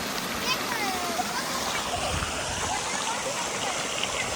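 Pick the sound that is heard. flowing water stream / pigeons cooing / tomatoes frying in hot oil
flowing water stream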